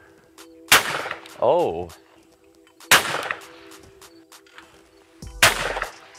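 A Weatherby Orion Sporting 12-gauge over-under shotgun fires three loud, sharp shots several seconds apart outdoors. A brief voiced exclamation and faint birdsong are heard between the blasts.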